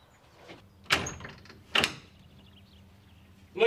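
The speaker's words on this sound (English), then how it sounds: "The door's locked or something." A door handle is rattled and pushed against a locked door, with two sharp knocking thuds a second apart and a further clatter at the end over a quiet room.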